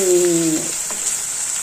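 A short burst of spice tempering sizzling in hot oil, with a brief tonal hum fading out at the start, then steady frying crackle.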